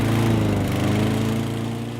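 A lawn mower cutting grass drones loud and close with a steady, buzzing engine note throughout.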